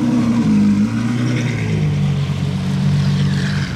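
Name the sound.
Pagani Huayra Novitec exhaust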